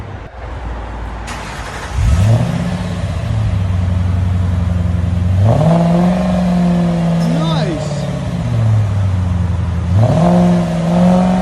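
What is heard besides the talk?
Ford Thunderbird 3.9L V8 revving with Borla S-type muffler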